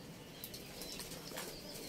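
A bird flutters inside a box, a couple of faint, brief bursts of wing flapping over a quiet background hiss.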